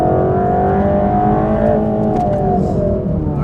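A Mercedes-AMG GT3 race car accelerates out of a corner on track, its engine a loud, steady rising drone filling the whole stretch, close and continuous.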